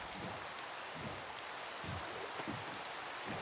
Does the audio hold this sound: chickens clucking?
no